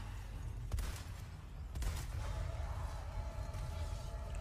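Rapid gunfire from the Resident Evil 4 Remake video game, a few sharp shot bursts over a low rumbling game soundtrack, moderately loud with no speech.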